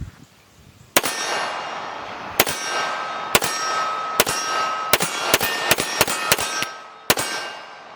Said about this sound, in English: I'm going to shoot some Wilson Combats out of it